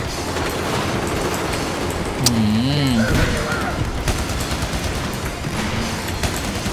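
RPK-74M machine gun fire in Battlefield 4, with loud, dense bursts of shots and booms running through the whole stretch, mixed with a brief voice-like whine and game noise.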